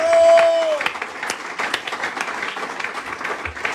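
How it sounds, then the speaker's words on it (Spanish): A church congregation bursts into applause, a dense wash of many hands clapping at close range, following a brief sung or sustained tone at the start. "¿Cuántos le dan un aplauso por eso?"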